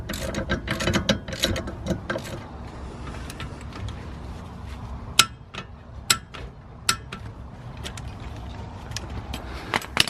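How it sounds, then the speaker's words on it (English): Ratchet clicks in short bursts while snugging 16mm nuts on a BMW sway bar (drop) link, with a few sharper metallic knocks mixed in, close and fairly loud. "you can just tighten up the 16mm nuts"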